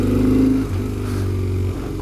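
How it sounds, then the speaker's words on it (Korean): A BMW R1150R Rockster with an air-cooled boxer twin accelerates, its throbbing, pulsing engine note steady and close throughout, with no talk over it. "이 구형 박스, 공랭 박스 엔진의 특유의 고동감과 함께 가속이 이렇게 됩니다."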